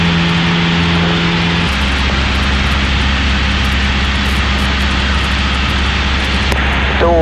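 Small propeller airplane engine running at high power for takeoff from runway 24 at Quebec City airport (CYQB), a loud steady drone with a low hum and some tonal shift early on.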